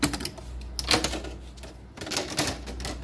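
Plastic cable duct covers are pried off an electrical control panel, giving a run of sharp, close clicks and snaps in two bursts, with no talking.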